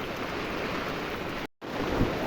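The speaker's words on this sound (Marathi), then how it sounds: "पाऊस पडायला लागला आहे." Heavy rain falls in a dense, steady hiss outdoors, with wind-like rushing and a brief dropout partway through before the downpour continues.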